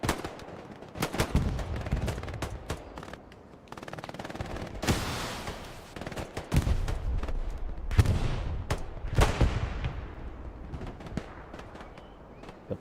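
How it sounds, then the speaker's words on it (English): Rockets fired into a wooded area in the Hell Let Loose battle game, Hurtgen Forest map: repeated loud explosive blasts and gunfire bursts at irregular intervals, some close and booming, others distant, with no talk over them. "Just launching rockets into the woods."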